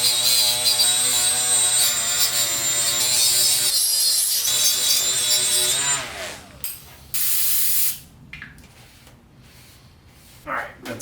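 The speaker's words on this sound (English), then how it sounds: "Do one last clean of the head surface." Scrubbing on the head gasket surface of a Honda K-series engine being swapped into a rear-drive Nissan Cefiro, loud rough rubbing strokes up close for about six seconds, then quieter scattered scraping and wiping.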